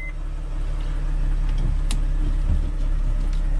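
A 2010 Mercedes Sprinter van engine idling steadily with its check engine light on, a low, constant rumble and hum, a few faint clicks and knocks over the drone.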